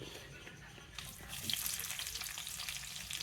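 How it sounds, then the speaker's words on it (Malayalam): Onions dropped into hot oil in a pan, a quiet hiss that swells into a steady sizzle partway through with light stirring scrapes, close and faint, no talking. "ചൂടായി, ഇനി ഉള്ളിയിടാം."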